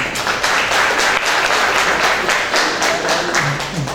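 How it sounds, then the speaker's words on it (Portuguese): A seminar audience at a campaign-planning talk breaks into close, lively clapping that carries on evenly for several seconds. "Palmas para a Camila também."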